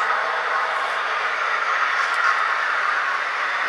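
Bowser model trains run smoothly around a layout, giving a steady, even rolling hiss and rumble that holds close and unbroken with no talk.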